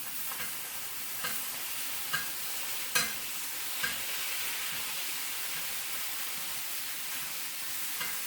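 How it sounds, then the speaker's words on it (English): Butter and oil sizzle and spatter around a steak in a hot tilted pan as it is basted, a steady frying hiss with occasional sharper pops and spoon scrapes. "taking the steak, tilting the pan, and taking that oil and the butter and basting all the steak"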